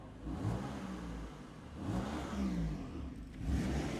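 A BMW M4 engine with its stock intake revs up and settles several times in a row, a throaty mid-pitched roar swelling in waves with no talking over it.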